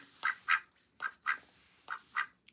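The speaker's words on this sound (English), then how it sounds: "She a duck." A duck quacks six times in three quick pairs, each quack loud, close and nasal, with brief silences between pairs and no talking.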